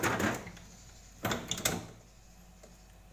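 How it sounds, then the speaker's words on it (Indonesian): A drawer is pulled out of a two-door refrigerator during repair, with a few plastic scrapes and knocks in quick succession, close and fairly quiet. "Harus mengeluarkan laci ini supaya kita bisa memperbaiki."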